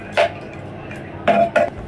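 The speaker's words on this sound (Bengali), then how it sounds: "নুডলসটা দিয়ে দেওয়ার পরে আমি একটু নাড়াচাড়া দিয়ে দেব" A utensil scrapes and clanks against a cooking pan while noodles are stirred, three short metallic strokes over a quiet background.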